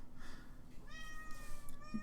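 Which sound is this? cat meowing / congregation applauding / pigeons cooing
cat meowing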